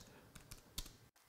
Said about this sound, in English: that's what I'm going to type right here in Google